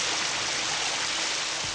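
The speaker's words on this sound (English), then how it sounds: "she hops in the shower" Shower spray hisses steadily in the bathroom of the Bates Motel in the film Psycho, a dense, even rush of falling water with no voices over it.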